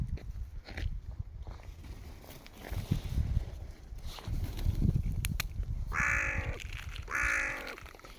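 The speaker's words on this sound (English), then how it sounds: "There must be more than 50 crows for sure." Crows gathered in large numbers in Holyrood Park, Edinburgh in winter, heard first through crunching footsteps and then as two loud, close, harsh caws near the end.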